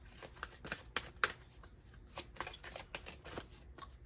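Tarot cards, from a Hoodoo Tarot deck, shuffled and pulled close by in quiet, irregular riffles and soft flicks, with no speech.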